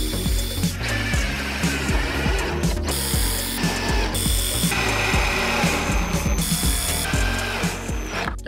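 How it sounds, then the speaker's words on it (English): A power drill drives a couple of screws into a wooden box for a DIY concealment coffee table, giving repeated close whirring bursts with short pauses between them. No one talks. "all I'm gonna do here is throw a couple screws in there and just screw it in there."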